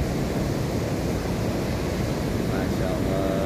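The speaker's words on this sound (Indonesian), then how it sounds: "Masya Allah, ini ombaknya." Ocean surf washing in steadily at Rancabuaya beach in Garut on an overcast day, a dense, continuous roar of breaking waves with some wind noise on the microphone.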